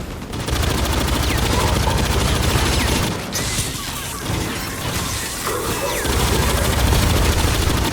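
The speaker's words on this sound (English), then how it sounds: "Grenade out!" Grenade blast and sustained gunfire from the Aliens: Fireteam Elite shooter game, a dense continuous barrage of loud shots with a sharp explosive crash about three seconds in, firing carrying on steadily afterward.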